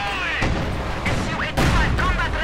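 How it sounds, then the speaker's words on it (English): Panzerfaust anti-tank fire in the Company of Heroes 2 battle game, several heavy booms and blasts layered over a busy din of combat, with a caster's voice audible underneath. "Panzer Faust on the other one"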